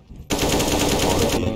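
Rapid automatic gunfire in Counter-Strike: Global Offensive bursts in after a brief quiet moment and rattles on loudly and continuously, with a short dip near the end.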